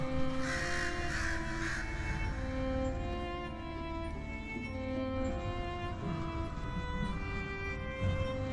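Crows in Night in the Woods caw repeatedly in a loose, overlapping rhythm against a steady ambient musical drone, moderately loud and without talk.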